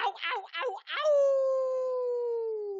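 A man imitates an old hound dog's howl with a short series of voiced yelps, then one long sustained howl that slowly falls in pitch, loud and close.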